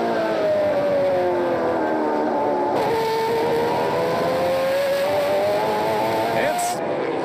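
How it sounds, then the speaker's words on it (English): Onboard engine of a NASCAR Pinty's Series race car at Flamboro, with a buzzy, mini-stock-like tone, droning steadily and rising and falling in pitch as the car laps, with commentary voices over it. "it's a little bit like a mini stock engine"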